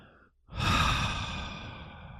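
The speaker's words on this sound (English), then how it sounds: "breathe with deep, slow belly breaths with an open mouth" One deep, slow belly breath drawn and released through an open mouth, close and breathy, swelling after a brief silence into a long, soft exhale with no words.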